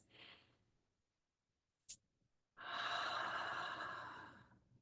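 Slow breaths during a wellness breathing exercise: a soft inhale, a quiet pause with a brief sharp click, then a long, steady, close exhale lasting about two seconds.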